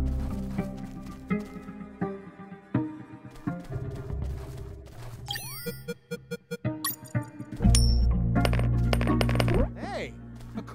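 Coins dropping and clinking onto the ground in a retro-style stealth action game, several bright metallic chimes and tinkles in a row over game music and effects, with a heavier rumble near the end.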